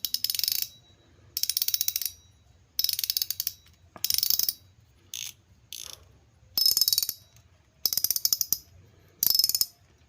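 A Shikari Green Force fishing reel's clicker ratchets in bursts of rapid, bright clicking, stopping and starting about eight times with quiet pauses between.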